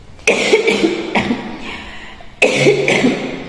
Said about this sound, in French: je vais d'abord tousser